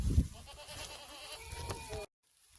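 Goat on a Jamaican goat dairy farm giving one wavering bleat, close and fairly loud, lasting about two seconds before cutting off into quiet.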